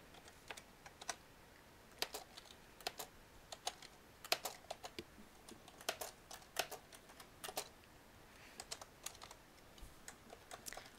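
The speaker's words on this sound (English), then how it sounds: "I am now noticing that this is a very, very loud keyboard" Typing on a very loud computer keyboard, with crisp separate keystroke clicks arriving in uneven bursts and short pauses, close and otherwise quiet, with no talking.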